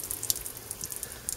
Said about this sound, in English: I'm just going to splash some water on there